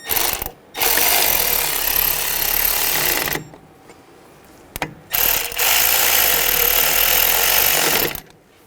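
A ratchet wrench rapidly clicks in two long close bursts while tightening bolts on a new rear wheel cylinder of a 2003-2009 Subaru Forester, with short pauses and a metallic tap between.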